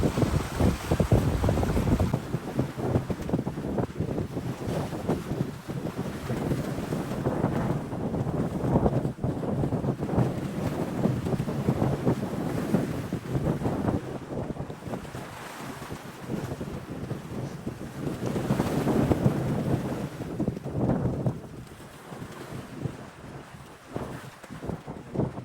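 Strong wind buffeting the microphone outdoors near open water, a loud, continuous rushing roar that surges and eases over about twenty-five seconds with no voices.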